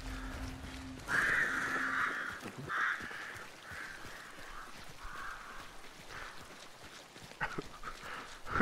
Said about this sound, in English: Who's freaking all them birds, man?